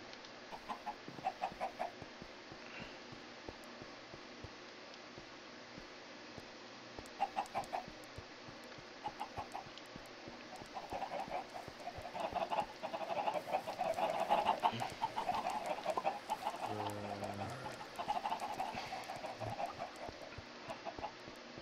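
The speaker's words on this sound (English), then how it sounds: "there's just chickens everywhere" Chickens clucking in the Minecraft 1.16 game world, scattered soft clucks and fowl calls repeating across the scene, with a denser cluster of clucking and game ambience toward the end.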